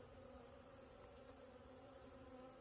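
Honeybees at an open hive make a dense, continuous buzz of many insects, steady and close, with no talking.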